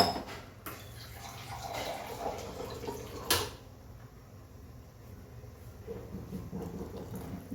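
Water splashes and trickles steadily into a metal pressure cooker of aubergine and potato curry, with occasional clinks of cookware, fairly close and continuous without speech.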